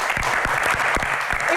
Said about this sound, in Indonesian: langsung saja kita akan berikan tepuk tangan yang paling meriah untuk Ibu Lestari Murdiat